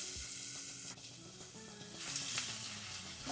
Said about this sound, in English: I'm adding about 2 tablespoons of butter to melt into that bacon grease that was left before adding in some diced onion